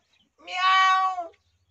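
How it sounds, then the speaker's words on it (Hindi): A cat gives a single drawn-out, tonal meow lasting about a second. It is close and clear against silence. "अरे बिल्ली हूँ बे, बिल्ली।"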